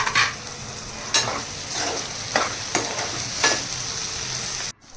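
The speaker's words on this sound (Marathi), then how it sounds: "तो चांगल्या प्रकारे परतवून घेऊया" Onions sautéing in a pan for a wet jawla shrimp dish, with a steady sizzle broken by repeated scraping strokes of stirring, then a sudden drop near the end.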